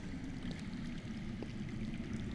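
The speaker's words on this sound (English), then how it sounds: "That's water. I hear water. From underground." Underground running water in a Game of Thrones video game, a steady low rushing and gurgling like a hidden stream, continuous and fairly faint throughout with no talking.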